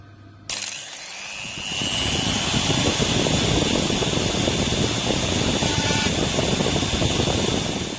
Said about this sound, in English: Once again, it's my die grinder to the rescue.